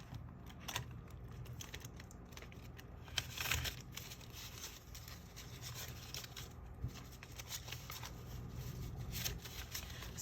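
Paper bills handled and slid into a paper tithes envelope, with soft close rustling, rubbing and crinkling throughout, quiet and steady with no talking.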